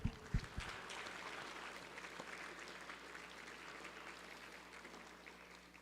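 A round of applause in the House chamber, modest and somewhat distant, starts with a few sharper claps and then settles into steady, fairly faint clapping that continues for several seconds.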